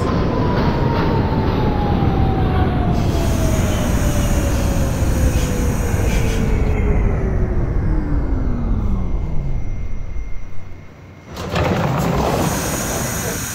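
A simulated R68 subway train on a Brooklyn-bound express run in OpenBVE roars along with a loud continuous rumble, a descending whine as it slows, then brakes hiss and the noise drops before picking up again.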